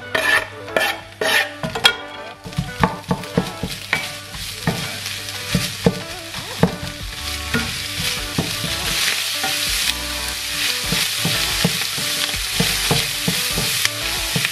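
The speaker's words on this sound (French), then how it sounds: "maintenant je vais rissoler les petits oignons avec la viande hachée" Onions and minced meat frying in a pan with a continuous close sizzle, punctuated by frequent scraping and tapping stirs of a utensil against the pan throughout.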